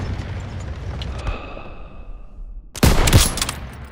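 Burst of gunfire aimed at turrets in Call of Duty: WWII, a loud broadband volley of shots and booms erupting suddenly after a quieter stretch of distant battle ambience.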